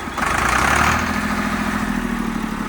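A Swaraj 95 model tractor's diesel engine revs up loud and close, then settles into a steady rough idle.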